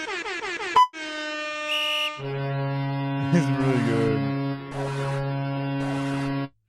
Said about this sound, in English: That horn honking is 2 minutes.